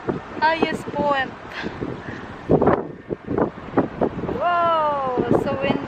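Strong wind buffeting the microphone at a high road-trip viewpoint in California, a loud rushing roar running under people talking excitedly nearby.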